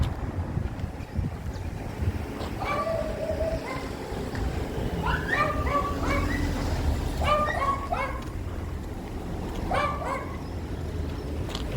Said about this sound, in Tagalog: pag makakita ng aso ang tahol ng tahol